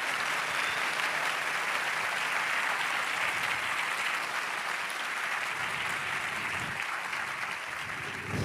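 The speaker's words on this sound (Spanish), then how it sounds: "Fuerte el aplauso al Señor." A church congregation at a preaching service bursts into applause, a dense, steady wash of clapping from many hands that stays loud and even from start to finish, with no voices over it.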